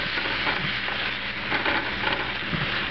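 Onions sizzling and frying in a pan for a homemade curry, a steady, even crackle running throughout with no voices.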